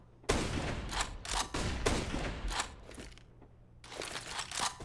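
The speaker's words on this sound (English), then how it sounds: "Firing pot shots" Gunfire potshots in Counter-Strike on the Mirage map during an IEM Katowice 2021 match, several sharp bursts of shots in quick clusters, then a pause and a further flurry, crisp and fairly close.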